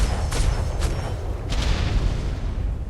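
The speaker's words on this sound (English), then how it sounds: "I love the way these large cannons work." Large ship cannons fire aboard a Royal Navy vessel in DarksideRP, heavy booms rolling over a constant roar of background noise, with a few sharp blasts spaced across the moment.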